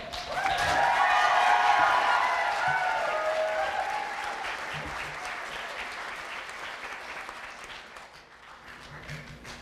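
Audience at a 2024 alternative education high school graduation ceremony bursts into loud, sustained applause welcoming a graduate, peaking early and then slowly tapering off over several seconds with a dense crowd wash.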